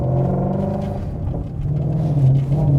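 A Ford Mustang GT350 engine with a manual clutch rumbles and revs, a near, full-bodied low growl that rises and dips as the car pulls away and shifts.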